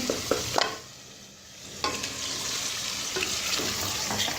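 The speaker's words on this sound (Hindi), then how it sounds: "थोड़ा सा इसे मैश करने के बाद इसके अंदर हम चिकन ऐड कर देंगे" Chicken pieces dropped into hot masala over a high flame, giving a few clattering knocks, a brief lull, then a sudden loud sizzle that keeps frying steadily with scraping stirs, close by and alone.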